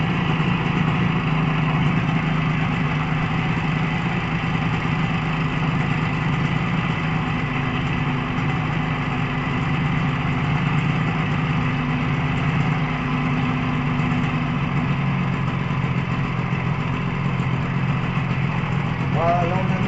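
A Motobécane 125 LT3 motorcycle, freshly cleaned with its carburettor synchronised, idles steadily at low revs, a continuous even putter running close by for the whole stretch.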